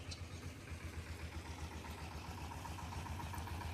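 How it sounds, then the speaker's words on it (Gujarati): A tractor engine rumbles steadily at low volume, its even chugging drone slightly growing louder toward the end, with no talk over it. "હાલો ટ્રેક્ટર જાય છે"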